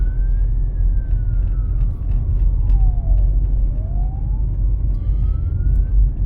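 A wailing ambulance siren on a city road, heard from inside a car driving a driving-test exam route, its pitch sweeping slowly down and back up over steady loud road and engine rumble.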